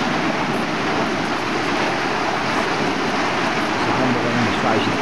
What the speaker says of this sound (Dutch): Dan maak ik dan de sluis open.